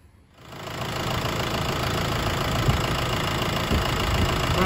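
A Jeep Patriot CRD diesel engine starts up and settles into a steady idle after a sump reseal, a close, even clattering drone with knocking texture and no talk.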